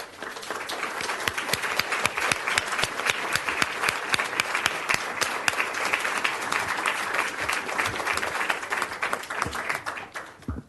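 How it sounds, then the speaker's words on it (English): An audience claps for parents standing to be recognized at a gathering. The dense, steady applause is fairly loud and fills the room without a break, then thins slightly near the end. "Could you please stand up so we can give you an appropriate round of applause?"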